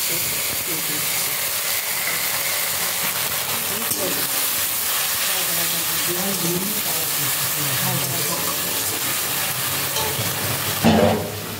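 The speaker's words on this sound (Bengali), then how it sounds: "পেঁয়াজটা ভাজা হয়ে গেছে, এর মধ্যে এবার কাঁচা লঙ্কা, আদা আর রসুন" Onion fries in a pan with green chili, ginger and garlic, making a broad, steady hiss and sizzle while a person talks at times.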